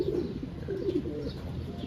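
Soft cooing and chirping calls from small pastel-coloured pet birds, steady and close, set against a constant background hum.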